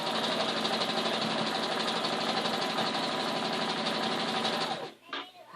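A sewing machine runs in a steady, fast whir while stitching quilt pieces for a quilt-as-you-go block cut with a tri cuter ruler, then stops abruptly near the end.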